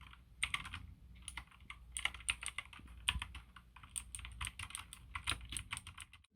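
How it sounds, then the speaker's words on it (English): Rapid typing on a Razer BlackWidow V3 tenkeyless keyboard with green clicky switches gives a close, crisp stream of sharp clicks in an uneven rhythm, with no voices. "I love the clickiness in the green switch keys."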